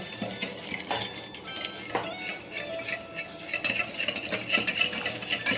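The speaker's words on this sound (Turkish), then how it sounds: "Sütle yumurtayı ve şekeri şöyle güzelce karıştıralım." Milk, eggs and sugar are whisked together in a bowl, producing a continuous run of quick clinks and scraping strokes of a utensil against the dish, close and fairly loud, with no talking.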